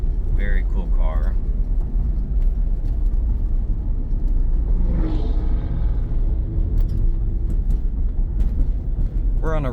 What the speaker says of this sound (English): We're on a really bumpy road.